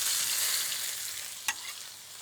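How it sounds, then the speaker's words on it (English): Garlic and chili frying in very hot, smoking oil in a wok with shallots, a steady loud broadband sizzle with a brief sharp crackle burst partway through, no voices. "Great sizzle there, along with the shallots."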